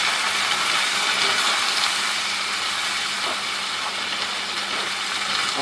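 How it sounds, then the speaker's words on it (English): Beef broth is poured into drained browned rice and stirred, giving a steady, loud sizzling hiss that stays even throughout with faint scraping underneath. "I'm going to put this beef broth in here and stir it around"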